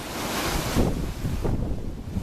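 Winter sea swell rolling onto the Penzance shore in Mounts Bay, Cornwall, under an easterly wind, a loud continuous rushing surf mixed with heavy wind buffeting the microphone.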